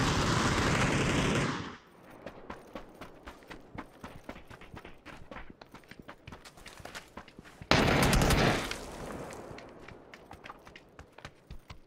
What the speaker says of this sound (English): Someone shot at me as I was coming.